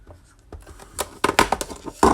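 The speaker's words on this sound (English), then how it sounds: "So you could write a simple sentence like this." A pencil writes a short sentence on paper, giving soft scratchy strokes in uneven bursts that grow louder toward the end, close and alone with no voices.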